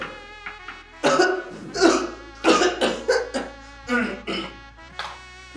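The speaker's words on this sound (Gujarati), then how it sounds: "ઉધરસ આવે છે?" Repeated coughing from a person in a family drama scene, several harsh bursts in an irregular rhythm, close and fairly loud with no talk between them.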